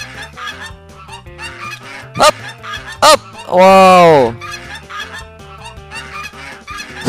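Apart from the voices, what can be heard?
geese honking while chasing in Upin Ipin mobile video game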